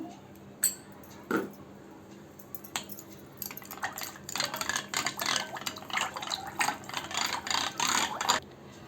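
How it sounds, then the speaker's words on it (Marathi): Rapid rhythmic sloshing and knocking as yogurt and water are churned into buttermilk with a wooden churner, growing busier and louder midway, with a few sharp clinks early on. "आणि रवीच्या साह्याने घुसळून घेऊ"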